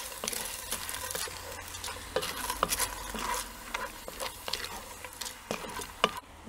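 Noodles folded into a ground-meat stew in a Dutch oven, with repeated scraping and clanking stir strokes over a soft background sizzle, close by and without speech.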